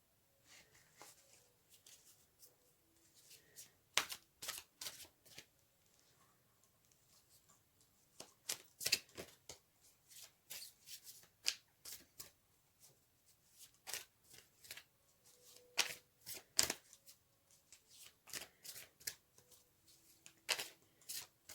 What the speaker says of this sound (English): Next, I'm going to pull some Archangel Power tarot cards.